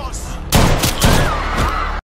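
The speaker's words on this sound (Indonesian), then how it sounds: "Polisi Yunani yang tidak mengenalnya juga menembak Vel" Gunfire in an action film scene where a Greek police officer shoots, heard as several loud, sharp bursts over a dense, noisy background, with some voice-like sounds mixed in.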